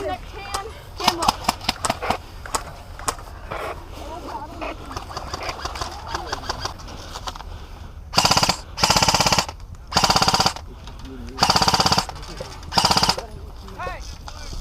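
Airsoft guns fire during an outdoor airsoft game: early on, sharp rapid single shots and short bursts crackle beneath shouted talk, then five loud sustained full-auto bursts rip out close by, each lasting about a second.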